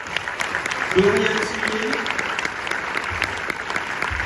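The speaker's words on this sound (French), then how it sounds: "Merci de faire un tonnerre d'applaudissements à Anaïs Demoustier" A cinema audience at a UGC Les Halles screening and debate applauds as the cast of Fumer fait tousser is welcomed, with sustained clapping under an announcer's voice naming people.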